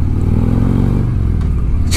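2017 Harley-Davidson Street Glide with a Stage 1 Screaming Eagle upgrade riding through town toward the open road, a deep, loud, rumbling engine throb with wind and road noise close up.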